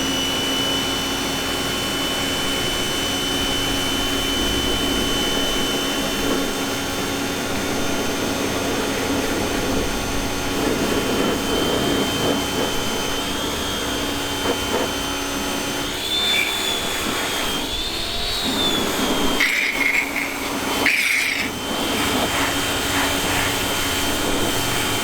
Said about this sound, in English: All soaked up, and then we'll start pressure washing here in a couple minutes.